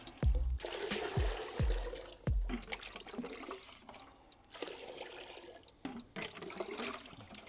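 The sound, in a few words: water pouring into a bucket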